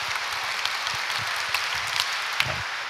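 A church congregation at a confirmation Mass gives steady applause, an even, moderately loud patter of many hands clapping throughout.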